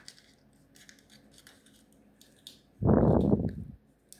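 Paper being folded for an origami gold dragon, light crinkles and soft scrapes at first, then one loud, close rustling crease lasting about a second near the end.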